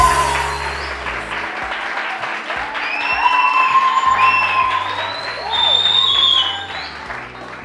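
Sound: studio audience applause

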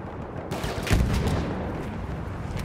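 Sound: gunfire in Battlefield video game

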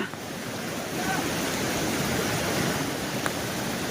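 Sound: floodwater rushing through a breached Ojat river embankment

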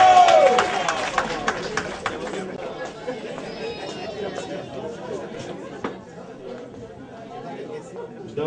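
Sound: audience applauding

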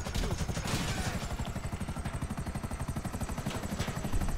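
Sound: helicopter in the video game GTA 5

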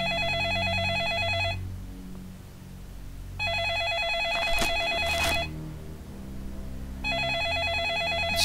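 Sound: telephone ringing in the video game Second Sight

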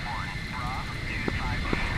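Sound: F-14A jet engine with afterburner in DCS video game

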